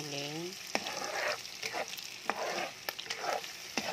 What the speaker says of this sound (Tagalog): papulahin natin yung giniling